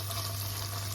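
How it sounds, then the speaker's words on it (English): Sweet peppers frying in a pan, a brief, dense, close sizzle that stays even and loud throughout, no voices. "So we're just gonna fry that."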